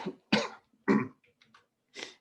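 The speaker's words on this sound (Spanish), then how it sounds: "Ya me dio la tos." A woman teaching a storytelling workshop class coughs several times in short, close, dry bursts, with brief pauses between them.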